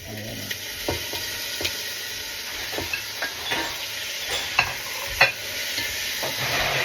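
Chicken is sautéed in a pan with garlic and onion for arroz caldo, sizzling steadily while a utensil stirs and scrapes in irregular clacks and taps, up close.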